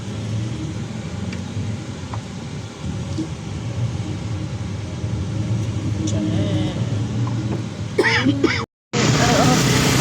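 Engine of a motorized tricycle running nearby, a continuous loud rumble that rises slightly, with brief voices and a short cut near the end.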